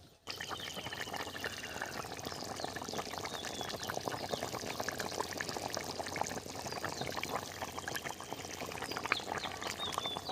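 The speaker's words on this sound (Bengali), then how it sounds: "এখন কিছুক্ষণ ফুটবে।" Fish pieces in a pot of fish curry simmer with a soft, continuous bubbling and hissing that stays close and steady, with no talking over it.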